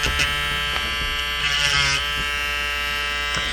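A Dremel rotary tool whines steadily while carving a plastic face plate for a Middie Blythe doll, a close, constant high buzz with brief grinding bursts as the bit bites in.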